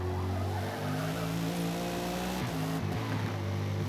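Lexus race car in a racing video game, engine droning steadily at high revs while cornering, with pitch dips as it shifts and slows briefly before climbing again, loud and continuous.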